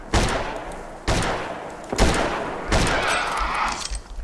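Gunfire in the prehistoric hunting game Prehistoric Hunt, four loud separate shots or short bursts spaced about a second apart, each with a long booming echo trailing off.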